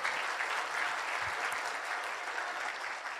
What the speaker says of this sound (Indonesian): Sekali lagi tepuk tangan buat para leader saya ini.